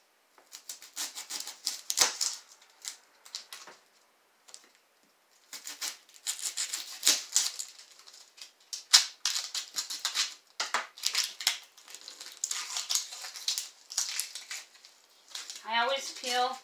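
A knife taps and scrapes on a cutting board while an onion is peeled and minced, giving irregular quiet chops and clicks at close range, with a brief higher tone near the end.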